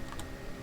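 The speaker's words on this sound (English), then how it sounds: "And then press enter." A single key tap on a computer keyboard, the enter key pressed once, gives a brief soft click up close.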